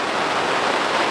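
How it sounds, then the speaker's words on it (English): Heavy rain pounding down on a fishing bivvy at a carp lake, a dense, loud, unbroken hiss of drops on fabric with no talk. "Rain, never seen anything like it."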